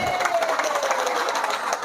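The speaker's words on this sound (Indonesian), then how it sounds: "Tepuk tangan dulu." A seated crowd at a gathering gives the MC a round of applause, a dense, even wash of clapping and some cheering from many hands, heard at moderate distance.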